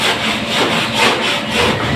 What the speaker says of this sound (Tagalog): Unahin natin yung malalaki. Malalaki. Malalaki kuskusin.